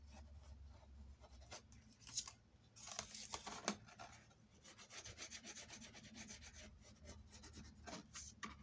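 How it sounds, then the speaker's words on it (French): A bone folder rubbed and pressed along glued cardboard to mark its thickness while making a photo album, giving soft close scraping strokes with a few sharper rasps in between, quiet and with no talking. "On va marquer un peu l'épaisseur de la cartonnette avec le plioir."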